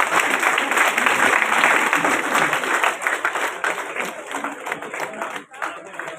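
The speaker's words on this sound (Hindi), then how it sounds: "सभी उपस्थित महानुभावों से निवेदन है कि तालियां बजाएं" Loud crowd applause at a political felicitation in Udaipur as a sword is presented to a new state minister, dense clapping with some cheering and voices mixed in, tapering and breaking briefly near the end.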